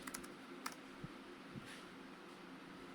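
A few soft keystrokes on a computer keyboard as the jobs command is typed into a Linux Ubuntu desktop terminal, faint and close, with a hushed room tone.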